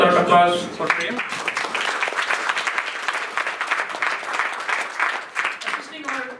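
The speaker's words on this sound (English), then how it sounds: "So, applause for Miriam" An audience at a retirement reception breaks into applause, dense clapping that runs for several seconds after someone speaks briefly at the start, then fades as his voice returns at the end.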